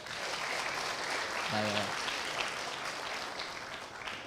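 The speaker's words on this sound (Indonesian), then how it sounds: "Boleh tepuk tangan sekali lagi?" Audience applause at a stand-up comedy show, a faint, steady wash of clapping from the crowd, with a brief tonal sound partway through.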